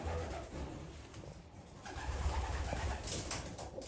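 A Belgian racing pigeon coos softly in a low, soft, repeated murmur, with a faint airy background hiss and no talking.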